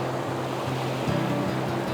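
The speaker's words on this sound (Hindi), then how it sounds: "ये देखो पानी कितना कलकल बह रहा है यार" Icy mountain stream on the road to Chitkul, its water rushing and babbling steadily and close by, with a slight surge partway through and no talking.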